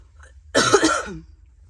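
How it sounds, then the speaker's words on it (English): A single loud cough burst, close and harsh, lasting about half a second before fading into quiet. "I'm really sorry about the coughing."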